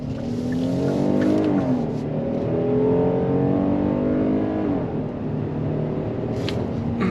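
A 2024 Kia Telluride V6 midsize SUV accelerates hard under throttle, its engine note rising steadily and loud, easing briefly midway before climbing again, heard from inside the cabin with no talking.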